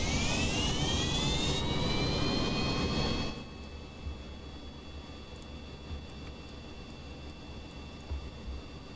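A jet plane engine in the video game Kerbal Space Program gives a loud, steady roar with a rising whine that drops abruptly to a quieter continuous hum partway through.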